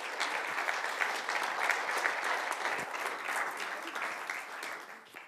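Audience applause welcoming an architecture speaker at a lecture, a steady dense wash of many hands clapping at even loudness throughout, moderately distant, with no voices.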